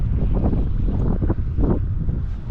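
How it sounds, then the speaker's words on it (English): Steady wind buffets the microphone during a solo sea kayaking trip off the Island of Kerrera, a continuous low roar and rumble with gusty swells, mixed with faint water movement around the boat. "The wind still wants to push me out"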